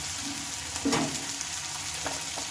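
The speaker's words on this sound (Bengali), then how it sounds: "তো পেঁয়াজগুলো এখন একটু লাল লাল করে ভেজে নেবো" Onions fry toward a reddish brown in a pan with a dense, even sizzle close by, broken by a couple of brief stirring scrapes.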